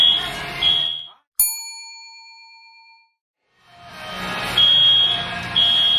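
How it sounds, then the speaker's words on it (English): A fire alarm or smoke alarm goes off during a photo shoot, sounding as a bright chime-like ding that rings out alone and fades over a couple of seconds. Continuous shrill beeping and a general din fill the room around it. "Fire alarm is going off."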